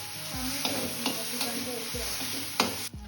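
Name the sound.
tomato added to hot pan, frying and stirring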